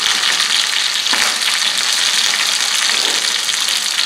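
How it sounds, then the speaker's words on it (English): Fish sizzles and crackles steadily in hot oil, a dense, continuous frying hiss close up with no voices. "Just frying, frying, frying."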